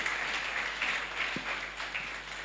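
Church congregation applauding during a Sunday service, a steady wash of many hands clapping at moderate distance, fairly quiet and continuous with no clear speech over it.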